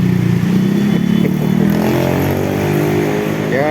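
A Vespa Platina scooter engine runs in a repair shop after being brought back to life. The close, loud, buzzing two-stroke rasp holds steady, then the revs rise briefly near the end.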